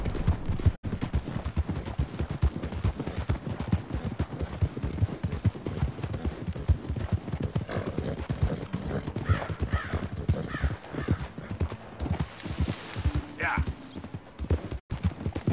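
Horse hooves clip-clop steadily in the video game Red Dead Redemption 2, a continuous close rhythmic trotting with a brief whinny near the end and a voice talking over it.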